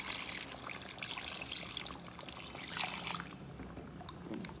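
Quiet trickling and splashing of water being poured into a cooking pot of mutton and potatoes, continuous for a few seconds.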